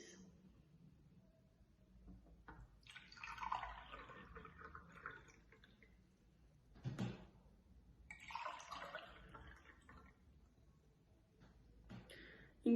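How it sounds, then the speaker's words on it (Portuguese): Water is poured into several small containers for a saltwater freezing-point experiment, making splashy bursts of pouring separated by pauses and a knock of a container being set down, at moderate distance. "nós vamos acrescentar água em cada recipiente desses"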